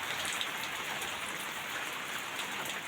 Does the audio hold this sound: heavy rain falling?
yes